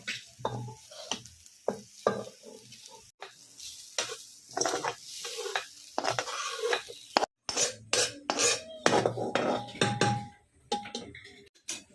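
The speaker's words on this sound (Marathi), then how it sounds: "हे बघा मी आता कुकरमध्ये हा सगळा पुलाव" Soybean pulao scraped and transferred from a pan into a pressure cooker, with repeated close scraping and clattering of a spoon against metal in irregular bursts, alone without talk.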